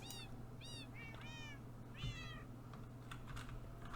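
A cat meows in a Minecraft game, several short rising-falling cries spread through the first two seconds over steady background hum, with faint clicks from a computer keyboard afterward.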